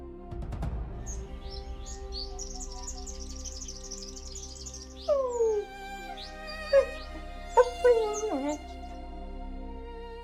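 African wild dogs give a run of high, twittering chirps, then several sharp, descending yelps in quick bursts, fairly close and set against a steady tonal backdrop.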